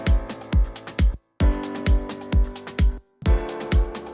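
Basic triad chords are played in a progression over low bass notes, each chord struck in a bouncy repeated rhythm, with two short silent breaks between phrases; clear and close with no voices.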